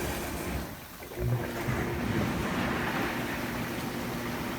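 A hot tub jet pump runs, churning and whooshing as it works trapped air out of the water, a steady rushing wash that swells slightly partway through.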